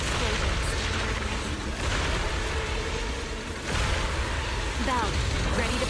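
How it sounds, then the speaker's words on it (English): Loud, dense rumbling blasts and crackling debris roll on continuously, with heavy low booms swelling and receding in a chaotic, close, game-like battle din. "Move in during the gaps between explosions."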